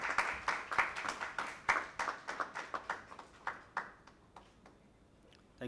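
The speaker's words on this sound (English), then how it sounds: "A big round of applause, ladies and gentlemen." A small audience at an AI summit held at a hotel gives a light, sparse round of applause, individual claps distinct and fading out after about four seconds; fairly quiet and distant.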